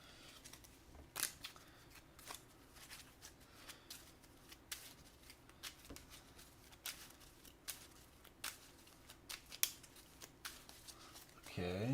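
Playing cards for the Marvel Champions card game being shuffled at a table, a quiet run of soft riffling snaps and patters over about twelve seconds, close and faint, with no talking.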